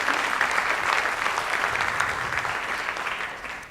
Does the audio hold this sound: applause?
yes